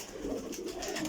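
Pigeons coo softly in a brief, low murmuring call close by, with no talk.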